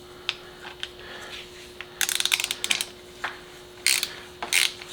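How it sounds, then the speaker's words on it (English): Ratchet running bolts down during a tune-up on an old Mercedes-Benz, giving scattered close clicks that speed up into quick bursts of ratcheting near the middle and again toward the end, over a steady faint hum. "just run it down with the ratchet"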